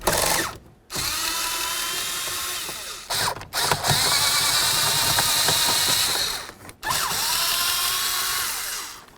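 Cordless power drill whirring in sustained bursts as it backs screws out of a Ford Ranger gauge cluster, with three sharp stops and restarts, close and loud.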